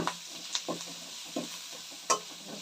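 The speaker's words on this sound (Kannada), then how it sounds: "ಇವಾಗ ಆನಿಯನ್ ಹಾಕಿದ ತಕ್ಷಣ ಚೆನ್ನಾಗಿ ಹುರಿಬೇಕಾಗುತ್ತೆ" Onions frying and being stirred in a pan while making egg rice: a soft background sizzle broken by several scattered scrape and stir clicks, one sharper knock near the end, no talking.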